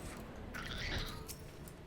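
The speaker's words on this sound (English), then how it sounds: "The cat is on the move." A cat meows in the video game Final Fantasy XIV, giving one drawn-out, wavering call up close against a quiet background.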